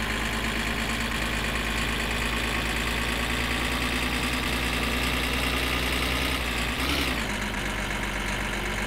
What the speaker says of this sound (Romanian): Și mașina asta de la 110 km încolo începe să tremure parcă ar fi o motocicletă scăpată de sub control.